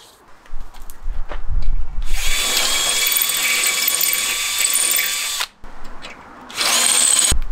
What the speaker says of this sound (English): So what I'm going to try and do is completely drill out the stud